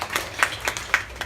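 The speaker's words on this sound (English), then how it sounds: "I think one round of applause for yourself" Short burst of audience clapping at an applied AI event: a handful of distinct, fairly close claps in an uneven rhythm, only a few people taking part.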